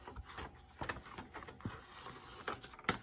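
A home printer runs while printing labels, a faint irregular patter of clicks and mechanical taps with a quiet hum underneath, recorded close by in a room.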